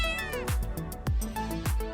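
A cat gives several short, loud, close meows in quick succession, each a bright tonal cry that rises and falls in pitch over about two seconds.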